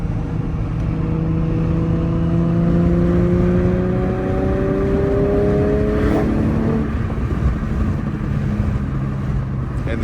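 Infiniti G35 fitted with PPE headers and a Motordyne catback exhaust cruising with windows down, a steady droning exhaust tone that rises in pitch as it pulls through a gear, then drops and settles back into a constant road hum.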